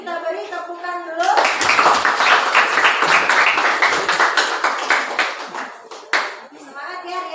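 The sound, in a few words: classroom applause for group 4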